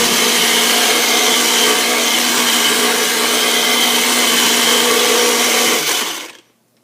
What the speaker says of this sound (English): Mr. Immersion Blender has done his job.